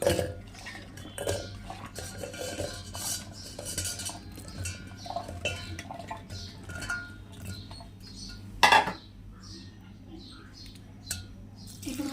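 Ingredients are tipped into a cooking vessel, with repeated close metallic clinks and scrapes throughout and one sharper clank partway through.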